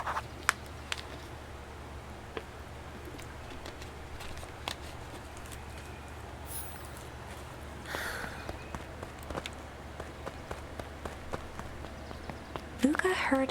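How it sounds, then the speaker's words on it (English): Faint, regular footfall taps in the video game Beacon Pines, a steady quiet patter of steps over a low ambient hum, with a few sharper clicks near the end. "Luca heard a group of footsteps."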